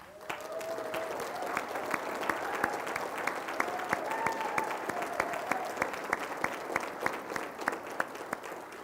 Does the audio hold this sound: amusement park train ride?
no